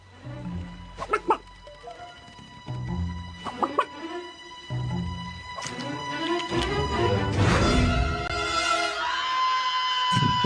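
A cartoon chicken clucks in short, loud bursts, followed by a crash and a rising, chaotic flurry of squawks and clatter.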